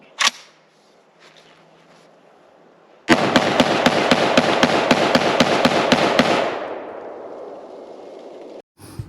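An LMT L129A1 reference rifle, a 7.62 AR-10 type, fires a rapid string of loud, evenly spaced shots at an outdoor range, then the echo fades out.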